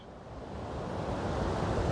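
Supin river rushing beside a Himalayan trekking trail on the Har Ki Doon route, a steady broadband roar of flowing water that builds slightly and then holds, with no voices.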